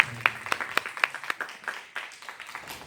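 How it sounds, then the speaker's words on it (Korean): A church congregation claps during a Sunday sermon, a brief round of sharp, distinct hand claps that thins out and fades within a few seconds. "우리 박수 한번 좀 쳐보실까요?"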